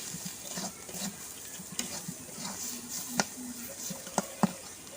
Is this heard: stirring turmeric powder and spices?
yes